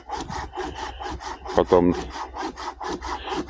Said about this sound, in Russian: И вот пилит дровей.